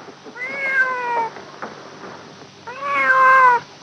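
A cat meows twice, each a clear, drawn-out cry close to the listener, separated by a short pause with faint background noise.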